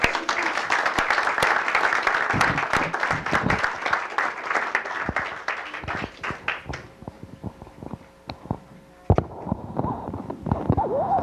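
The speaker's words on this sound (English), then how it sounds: "Let's give them a round of applause." Applause at a city council meeting. Dense clapping from the room fades into scattered claps and quiet, followed by a single thump and then talking.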